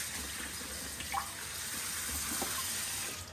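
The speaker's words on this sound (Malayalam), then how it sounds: "ഓക്കെ, അപ്പോൾ വെള്ളം നിറച്ച് ഉപ്പിട്ടിട്ടുണ്ട്" Tap water runs steadily into a tin for salt pickle with a continuous hissing splash, moderately loud and close, with a few faint knocks and drips, and no voices.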